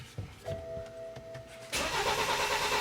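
A BMW X3 that cranks but won't start, its starter turning the engine in an uneven churn with a dash chime, then a sudden loud, steady whir for the last second.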